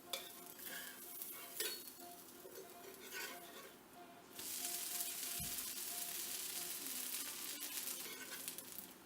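Bottle gourd dosa sizzling on a hot pan, with scraping and stirring clatter at first, then a steady, louder sizzle and a single low thud partway through; no talk.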